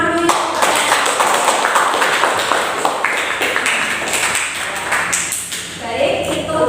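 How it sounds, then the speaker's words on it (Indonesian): A classroom group of students claps together for a student team, a dense, steady patter of many hands close by that runs throughout, with faint voices underneath. "Beri tepuk tangan dulu"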